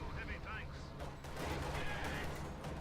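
WWII strategy video game combat, with airstrike explosions and gunfire heard as a quiet, dense rattle of bursts and blasts for a few seconds, partly mixed with a voice.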